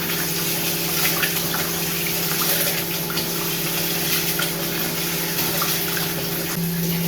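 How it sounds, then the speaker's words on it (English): Rice is washed in water with a steady rush of running water and a constant low hum, like a tap filling a bowl. The sound stays loud and even throughout. "We're going to do the second wash, because you know we have to wash it either 3 or 4 times."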